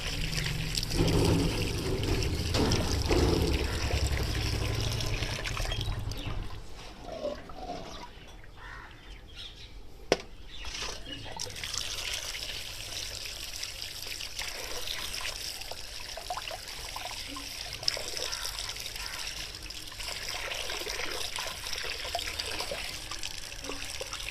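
Fish pieces are washed under running water, with a steady trickle and splash that thins out midway, then continues with light handling noises and a couple of sharp knocks. The sound is moderately quiet and nobody talks.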